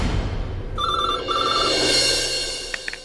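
A telephone rings with an incoming call in a Hindi TV drama scene, a steady electronic ringing pattern with two bursts, fairly loud and close, with no talking over it.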